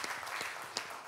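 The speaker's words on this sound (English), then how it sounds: "Can we clap for Ariel?" A panel-discussion audience applauds panelist Ariel, a steady wash of moderate clapping from the room with no voices over it.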